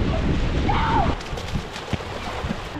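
Rain and wind at a beach in Portugal or Spain, heard as a loud steady wash of broadband noise with gusty low rumble, easing to a softer patter after about a second; a faint tonal whistle briefly rises over the noise.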